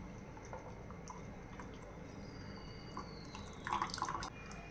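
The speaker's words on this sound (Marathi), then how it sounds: "इथे आपला खरबूसचा पण ज्यूस तयार झालेला आहे आता आपण हा ओतून घेऊया" Freshly blended muskmelon juice is poured from a mixer jar, a soft steady trickle of liquid that swells into a brief, louder splashing pour near the end, with no voices.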